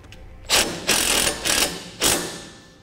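Self-tapping screw driven into a trailer tongue with a power driver, four short whirring bursts close by, each followed by a brief pause.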